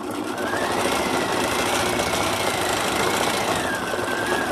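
A sewing machine runs continuously at a steady pace, its rapid mechanical chatter and hum loud and close throughout with no talking.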